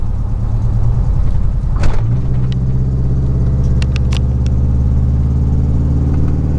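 A 2000 truck's 4.8-liter V8 idling on only four cylinders, with a rough, uneven low rumble and a slight rev near the start, close and loud, with a few clicks.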